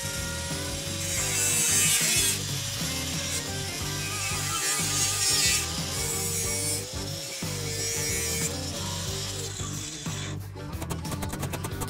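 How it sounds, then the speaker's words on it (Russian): Angle grinder cutting through a steel freon gas cylinder, a sustained loud abrasive whine with a low humming drone that shifts in pitch as the disc bites, pausing briefly and resuming, with a clattering ending. "По этому черновому резу отрезаем болгаркой пол баллона."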